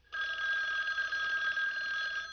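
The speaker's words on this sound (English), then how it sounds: "The phone." A telephone bell rings continuously with a steady trilling tone, moderately loud and alone, on a film set.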